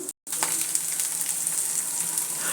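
Cumin and mustard seed tempering sizzles steadily in hot oil for a moong dal dish, a close, continuous crackling hiss with a brief dropout near the start.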